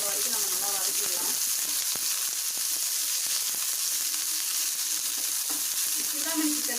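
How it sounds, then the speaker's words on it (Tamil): Sliced onions sauté in hot oil for Chindamani chicken, giving a loud, steady sizzle throughout, with occasional clicks from stirring in the pan. "வெங்காயத்தை வந்து நல்லா வதக்கிக்கலாம்."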